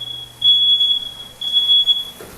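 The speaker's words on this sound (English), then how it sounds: "there goes the fire alarm" A kitchen smoke detector sounds off with a steady high-pitched electronic beep, repeating in two long bursts over a faint background hum, loud and close with no talking.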